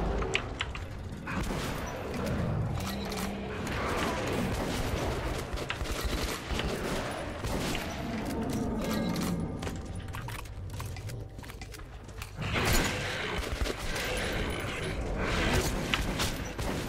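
Rapid shotgun bursts crack through a busy Metro 2033 Redux game soundscape, loud and repeated, with mechanical clatter between shots and a heavy blast near the end.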